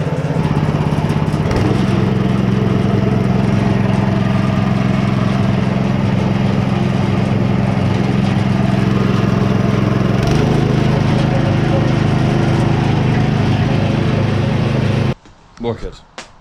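A concrete mixer's small engine runs steadily at a rough, rattling idle close by, droning without letup, then cuts off abruptly near the end, leaving a few faint knocks.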